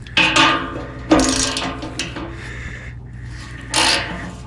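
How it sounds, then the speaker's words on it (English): Ratchet clicking on bolts of a Subaru Impreza exhaust muffler, several loud close bursts of rasping mechanical turns with short pauses between them. "now I will remove these bolts and install the gasket"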